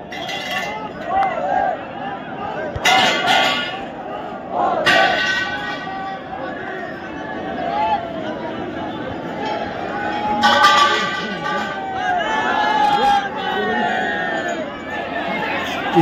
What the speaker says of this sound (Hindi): भाई भीड़ दिखा रहा हूँ मैं माथा टेकने वालों की